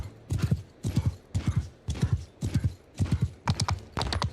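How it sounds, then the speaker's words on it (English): Horse hooves clip-clop in a video game at a steady trotting rhythm, with paired hoof strikes repeating about twice a second, close and clear and with no talk. "Got a mighty steed now."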